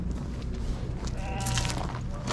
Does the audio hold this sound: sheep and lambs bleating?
yes